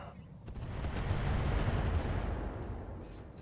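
Heavy mech weapons fire in the game RogueTech, a dense rumbling barrage of booms and impacts swelling and fading over a few seconds.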